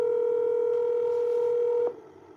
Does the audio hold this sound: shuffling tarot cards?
no